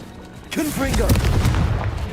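A Confringo blasting spell goes off in Hogwarts Legacy, a sudden burst of noisy crackle with a lingering rumble over about a second and a half, mixed with a shouted voice.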